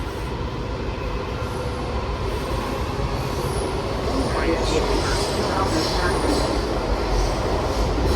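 Steady loud rumble and roar of a WMATA 7000-series Kawasaki subway car in motion on the Blue Line, with wheel noise and faint high squeals, continuous throughout; a voice is faintly audible.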